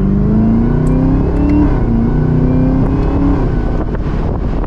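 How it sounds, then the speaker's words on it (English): A 2023 Chevrolet Camaro ZL1 Convertible engine revs loudly up and down in manual mode with a deep exhaust note and supercharger whine, close by and continuous. "let's listen to that supercharger and that exhaust"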